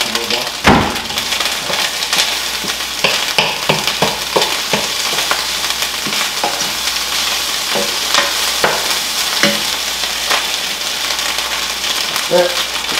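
Fried rice sizzles steadily in a hot pan while a utensil stirs and scrapes it, giving irregular clacks and scuffs over the continuous frying hiss.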